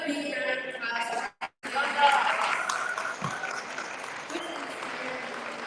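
An award event audience gives a steady round of applause, with a brief drop partway through. A speaker's voice runs faintly beneath the clapping.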